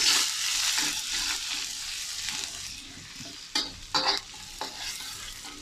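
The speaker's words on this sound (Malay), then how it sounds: "Kita masukkan bawang kecil yang telah ditumbuk. Tumis." Crushed shallots sauté in a pan with a bright, steady close sizzle that eases slightly over time, broken by a few short bursts of stirring, with no voices.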